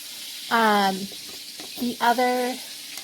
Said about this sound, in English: That's why they're sizzling so loud.